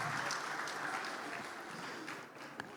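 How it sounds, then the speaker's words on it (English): A conference audience at a plenary session on commodity procurement gives quiet, diffuse applause, soft and even, tapering off slightly near the end. "I think you deserve another round of applause"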